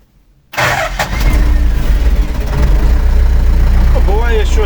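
An LTZ-60AV tractor engine starts after a brief silence, cranking and catching into a loud, steady running rumble that builds slightly; a short voice-like sweep is heard near the end.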